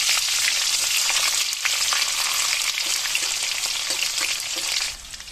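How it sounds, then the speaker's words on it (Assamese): Sliced onion and ginger sizzle hard in hot oil, a loud, steady, bright crackle with occasional stirring that fades slightly near the end. "3টা পিঁয়াজৰ যি এটা পিঁয়াজৰ এফাল কাটিছিলোঁ, সেই এফাল পিঁয়াজখিনি মই এতিয়া তেলত দি দিম।"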